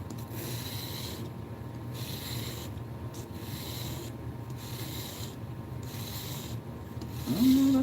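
A kitchen knife edge is stroked across a 1000 grit whetstone in steady, repeated rasping passes with short pauses between strokes, close and moderately quiet, with no talk.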